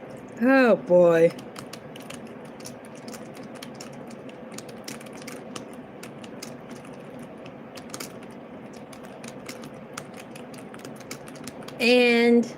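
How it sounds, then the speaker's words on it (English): Keys clatter on a computer keyboard in soft, irregular bursts of clicks running through the stretch, with short loud voiced sounds at the start and end. "I'm going to keep typing."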